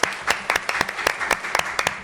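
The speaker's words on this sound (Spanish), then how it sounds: "Le damos la bienvenida con un fuerte aplauso a Guillermo Poch" Sharp, rapid hand claps from a seminar audience welcoming a speaker, a lively burst of applause with distinct individual claps.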